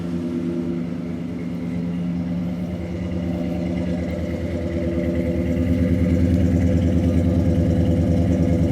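The 289 V8 in a 1967 Mercury Cyclone 4-speed, fitted with a brand-new exhaust system from front to rear, rumbles steadily at a loping idle up close. Its deep burble swells slightly louder and rougher toward the end.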